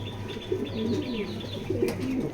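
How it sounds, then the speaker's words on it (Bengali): Pigeons from a loft of big, red-eyed foreign-line males coo in repeated low, burbling calls nearby, with faint chirps and a brief flutter-like rustle over a steady hum. "একদম লাল আগুন চোখের কবুতরটা"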